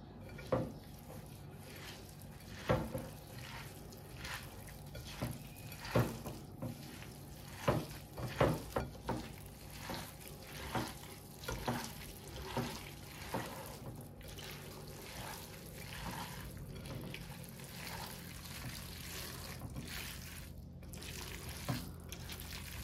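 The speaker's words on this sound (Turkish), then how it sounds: "Şimdi güzelce bir karıştıralım." A dolma filling seasoned with salt and lemon juice is stirred in a bowl, giving a run of soft, irregular wet squelches and scrapes that carry on steadily through the whole stretch.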